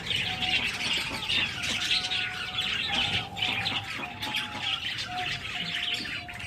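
Finch chicks squawk and chirp in a busy cluster, their high, scratchy calls repeating constantly over a nest of plucked feathers, close and moderately loud, with short whistled notes mixed in.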